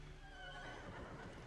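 Blood horse mount in the game Elder Scrolls Online neighing, a steady whinny with harmonic overtones held over a constant low background, loud and close, with no talk.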